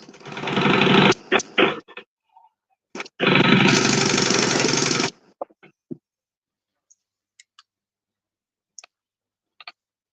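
Sewing machine topstitching fabric in two fast, loud bursts of rapid stitching, separated and followed by scattered clicks and taps as the work is handled.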